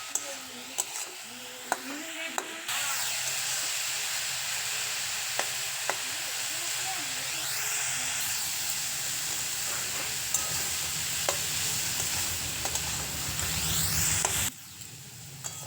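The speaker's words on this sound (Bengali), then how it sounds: "সেদ্ধ করে রাখা শাকটা তেলের মধ্যে দিয়ে ভেজে নেব" Boiled bathua greens fry in hot oil, a close, steady sizzling hiss with stirring scrapes and occasional clinks, growing louder toward the end.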